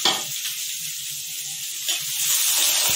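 Green chillies and curry leaves sizzle in hot oil in a frying pan, a steady bright hiss with faint stirring scrapes underneath, swelling slightly toward the end, no voices.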